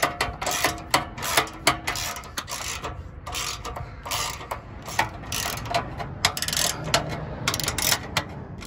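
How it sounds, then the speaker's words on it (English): A 13mm socket ratchet clicks in quick, uneven bursts while loosening exhaust nuts on a Porsche 991 GT3/RS side muffler, close and fairly loud with short pauses between runs of pawl ticks. "we're going to loosen all of these nuts with a 13mm socket"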